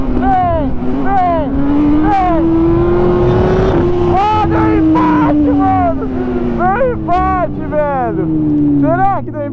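A Camaro and a Hornet race side by side in a street drag, their engines roaring loud and close as revs climb and shifts repeat, with excited voices shouting over the noise.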